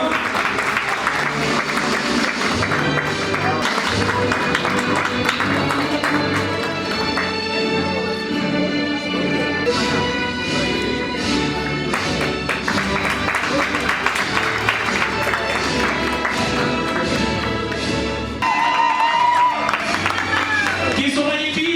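An audience at a CHRM certification ceremony in Togo claps and cheers steadily for over twenty seconds, a dense, sustained wash of applause with tonal music and voices mixed in.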